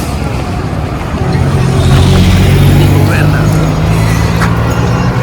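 A Hyundai Verna car rumbles loudly close by near Lonavla, its engine hum swelling and holding as it drives past.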